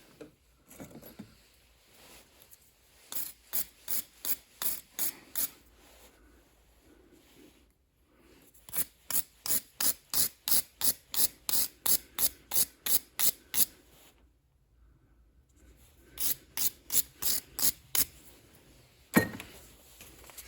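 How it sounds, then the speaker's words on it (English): Sandpaper is worked back and forth on a part from an Oleo Mac BC240 strimmer, giving rhythmic scratchy rasping strokes in several quick bursts separated by pauses, close and fairly clear with no talking. "Run a bit of sandpaper through it."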